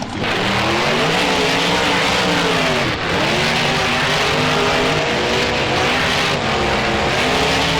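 Monster trucks racing in BeamNG, a 4th of July race, with loud engines droning and revving continuously, pitch rising and dipping as the trucks shift and accelerate along a straightaway and around a turn.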